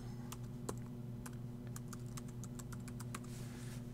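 Keys clatter in irregular bursts as a password is typed on a computer keyboard, with several quick taps close by over a steady low hum and no talking.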